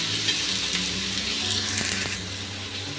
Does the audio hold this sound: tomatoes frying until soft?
yes